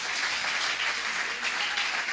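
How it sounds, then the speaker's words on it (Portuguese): A church congregation claps during a worship service, a steady, fairly loud wash of many hands applauding together without pause. "Pode aplaudir que é para Jesus."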